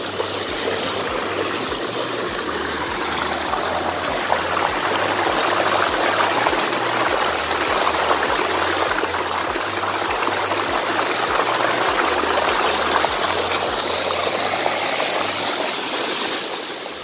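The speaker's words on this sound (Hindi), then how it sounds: "यहाँ से इस जगह से जो है ये चश्मा निकलता है" Mountain spring water flows steadily from its source in the Mahu Valley, a continuous loud rushing and gurgling stream close by, with a low rhythmic thumping underneath throughout.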